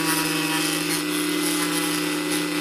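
A machine runs at 1500 RPM while cutting parts for a scratch-built 1/35 scale model air horn, making a loud, steady, droning whine that holds without a break.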